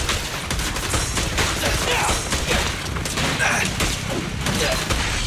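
Gunfire in the video game Zenless Zone Zero crackles in rapid, dense volleys of shots and impacts, loud and continuous with mechanical clatter woven through.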